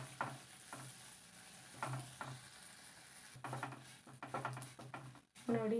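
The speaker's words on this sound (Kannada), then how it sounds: "ಇದಕ್ಕೆ ವರ್ಮಿಸೆಲಿಯನ್ನು ಹಾಕ್ತಾ ಇದ್ದೇನೆ. ಇದನ್ನು ಲೈಟಾಗಿ ಫ್ರೈ ಮಾಡಬೇಕು." Vermicelli frying lightly in butter in a pan for pistachio kunafa chocolate, with soft intermittent stirring scrapes and a low, faint sizzle; bursts of stirring come and go over a quiet background.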